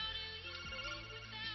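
A phone ringtone plays steadily throughout, a loud, close electronic melody with sustained tones and no talking over it.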